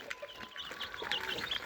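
Thirteen-day-old Egyptian Fayoumi chicks cheep and a larger hen clucks close by, in soft, quick, overlapping calls that run continuously at low volume.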